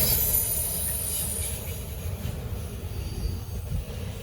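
Norfolk Southern freight train NS 1072, northbound with a mid-train DPU, rolls past in the Charlotte District, its loud rumble and wheel noise holding steady before easing slightly and turning into rougher clattering toward the end.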